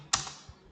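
Typing on a computer keyboard, pressing End and Enter keys: one sharp close key clack followed by a couple of softer taps, brief and isolated.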